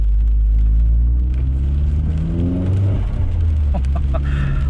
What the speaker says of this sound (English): I can't stop smiling every time I hear that flutter.